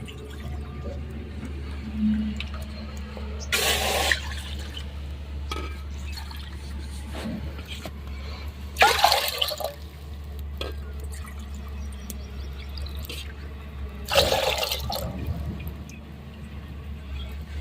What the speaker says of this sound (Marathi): मी आता अंदाजे पाणी ठेवणार आहे